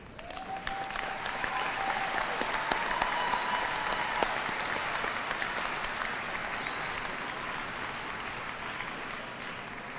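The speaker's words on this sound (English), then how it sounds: "Students and all our guests, please join me in a round of applause." A graduation audience at North Marion High School applauds its faculty and staff, a broad sustained wash of clapping from a large crowd indoors that swells and slowly fades over ten seconds.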